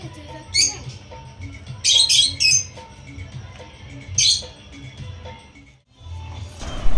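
Two birds squawk at a small rustic village hotel near Joypur forest in Bankura: a few sharp, shrill bursts stand out against quiet ambient background noise.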